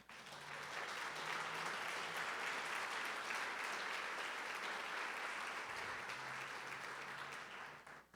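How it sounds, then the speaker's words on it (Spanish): Church congregation applauding during a Spanish-language worship service, a broad, steady wash of clapping that rises quickly, holds for several seconds and fades at the end. "Denle un aplauso al Señor."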